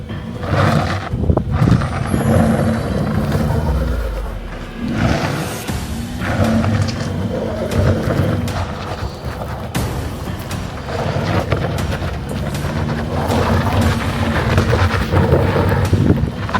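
A car climbs a rough unpaved road in Armenia, with a steady loud rumble of engine and tires on gravel, broken by bumps, rattles and gusts of wind buffeting the microphone.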